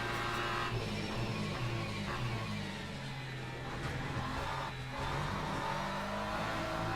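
BMW GT3 race car engine in the Le Mans Ultimate racing game, roaring steadily and loudly throughout with shifting revs and brief dips as gears change, with no talk over it.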